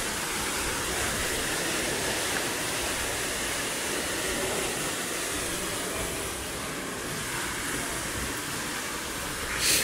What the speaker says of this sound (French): Et en face nous avons la cascade.